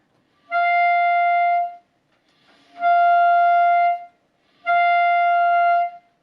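Three sustained clarinet notes on the same G above the staff, each lasting about a second with soft, breathy air-only onsets and clean pauses between them.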